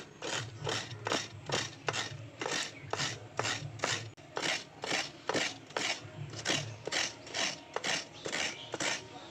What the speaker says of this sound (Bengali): এবার নারকেলটা আমি কুড়িয়ে নেব ভালো করে